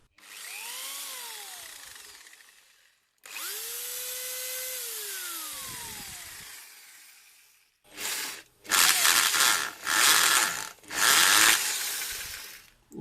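A Parkside mechanical, non-pneumatic hammer drill revs up and winds down twice, then runs in several loud rattling bursts with short pauses between them.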